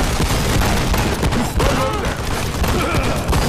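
Machine gun fire in The Expendables 2 video game, fought in Kowloon by night: dense, continuous automatic fire and explosions fill the mix, with a voice shouting over the din.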